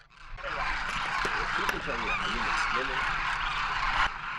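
Flock of birds calling at a desert feeding spot where millet and grain are laid out by a dune, a dense continuous chorus of honking and chattering calls, with a voice speaking over it.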